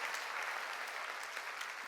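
A congregation at a 2018 Korean summer mountain church revival meeting bursts into steady, dense applause, a brief continuous wash of many hands clapping at moderate distance.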